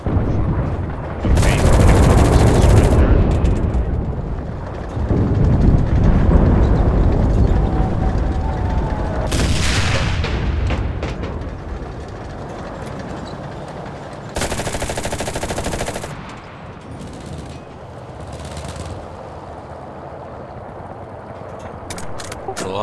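Panther tank in a World War II video game firing, with loud heavy gun blasts and booms, bursts of rapid automatic fire, explosions and rumbling battle noise over several seconds, and someone talking over it.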